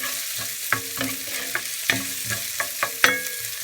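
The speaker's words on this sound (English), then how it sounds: "now my ginger has been sauteing for about 2 minutes" Ginger sizzles steadily in a hot pan while a utensil stirs and scrapes it in irregular knocks, close and fairly loud, with no talking.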